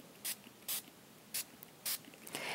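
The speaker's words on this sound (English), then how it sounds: "So we just spray." Ink mist sprayed onto chipboard comes as four short, sharp hissing bursts at uneven intervals, each under half a second, and a fifth, longer spray runs to the end; all are close and fairly quiet.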